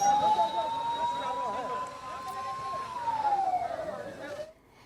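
A fire brigade truck siren wails loudly nearby at a large fire in Raipur, its long rising and falling tone sweeping steadily for several seconds before cutting off, with no one speaking.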